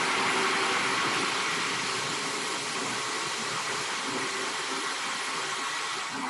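A blender whizzes a blueberry yogurt smoothie in one continuous, loud, even whir that holds steady for several seconds with no voices over it.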